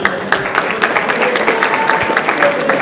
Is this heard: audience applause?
yes